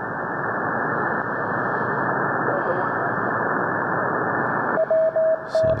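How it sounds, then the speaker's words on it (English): Shortwave static hiss on the 80 meter band near 3580 kHz, then a steady tone keying on and off in short Morse code bursts near the end. "So this is Morse code from 80 meter band."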